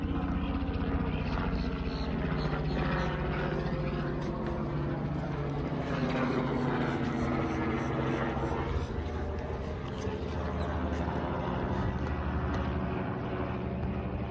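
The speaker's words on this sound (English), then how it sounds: "Uh-oh, helicopter." A helicopter passes overhead near a river ranch, its steady rotor thrum and whine holding at a moderate level throughout, with no clear speech.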